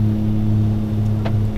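A Jetstream 32 turboprop climbs out of Stuttgart after takeoff, its propellers giving a loud, steady drone that fills the cabin without a break.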